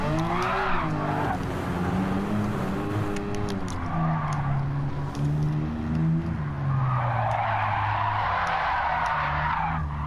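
Cars drifting in the Gran Turismo 7 racing game, with a Porsche-engine-swapped Beetle, tires squealing loudly and continuously over steady engine roar, rising and falling in pitch as the car slides through corners.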